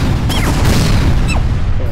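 A cluster bomb explodes in the video game Worms 2 Armageddon as a loud, close booming blast with crackling debris, and short whistling sounds streak down during the two seconds.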